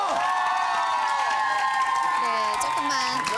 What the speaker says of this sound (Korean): 박수 다시 한번 큰 박수 보내주세요